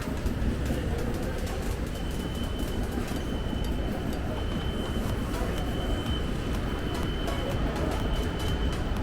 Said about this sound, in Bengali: তো এবার আস্তে আস্তে এসএমভিটি স্টেশনে ঢুকছে আমাদের গাড়ি।